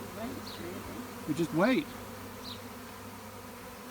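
Honeybees hum steadily around a skep and a nucleus box near a hedge, with a brief louder close buzz as one flies past; someone speaks briefly amid the outdoor drone.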